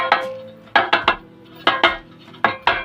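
A metal cake tin, oiled and dusted with wheat flour, is tapped in quick clusters of two or three sharp metallic knocks, close and clear, repeating in an uneven rhythm with short quiet gaps between.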